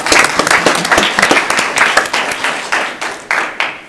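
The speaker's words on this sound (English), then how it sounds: "a round of applause if you want." A scattered round of applause from a small audience at a Coeur d'Alene city council meeting, with individual claps clearly separated and loud, fading out over a few seconds.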